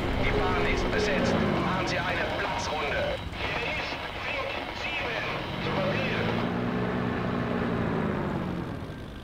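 Engine of a Bf 109 F4 fighter plane in IL-2 Battle of Stalingrad, a loud, close droning whose pitch sweeps up and down, with someone talking over it throughout.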